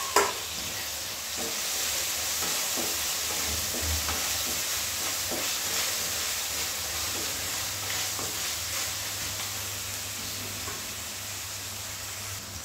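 Tomatoes dropped into a hot frying pan for dhaba-style garlic spinach (lasooni palak) sizzle steadily, a continuous close hiss with light stirring scrapes running the whole way through, no talking.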